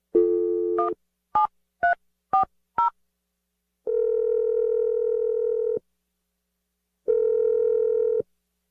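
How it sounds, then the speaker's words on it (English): A telephone dials a number for a radio show call: a steady dial tone, then five quick touch-tone beeps, followed by two long, even ringing tones separated by silence. "Let's dial the number right now."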